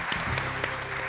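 Studio audience applause on a televised quiz show after a contestant wins a round, a dense steady clapping from a crowd, moderately loud and uninterrupted by talk.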